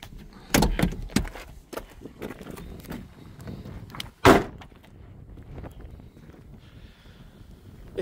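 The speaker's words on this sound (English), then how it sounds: "you push this down to get to the back and then slide forward and you can jump into the rear seats" Clunks and clicks from a Citroen C2 1.1i SX three-door, its front seat folded down and slid forward for rear access, with a loud latch knock midway amid quieter rattles, close by.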